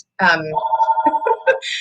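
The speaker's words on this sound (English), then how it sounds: "I don't know how to shut their phone off" A landline telephone rings inside a small-town church office, giving a steady electronic warble that pulses for about two seconds, close and clear with no voices over it.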